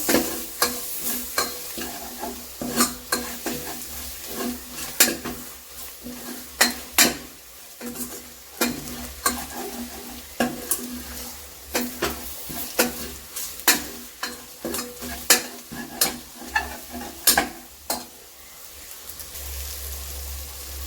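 Chopped tomato sizzles in a hot pan of curry base for mutton curry, with a spoon scraping and stirring in steady, clinking strokes close by, a continuous frying hiss running underneath the whole time.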